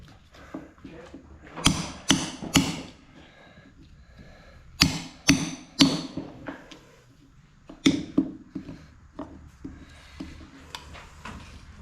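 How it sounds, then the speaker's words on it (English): A crowbar pries at an ambrosia maple log in a sawmill, giving clusters of sharp cracking knocks and creaks in bursts of three or four, loud and close, with quiet gaps between. "Try that crowbar on it."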